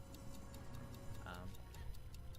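Steady ticking of a countdown timer during a timed puzzle in the video game Woolfe, a regular tick-tock running through the clip beneath ongoing talk.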